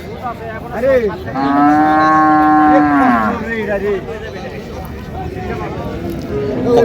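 Cows with calves at a rural Raniganj cattle haat: one cow gives a loud, drawn-out moo lasting a couple of seconds nearby, surrounded by buyers and sellers talking and a busy market bustle.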